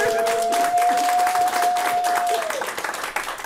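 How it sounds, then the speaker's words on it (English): Steady applause and crowd noise for basketball player Anthony Edwards, dense clapping that carries on for several seconds and then thins and tails off toward the end, with a held tone sounding over it. "Give it a round of applause for Anthony Edwards."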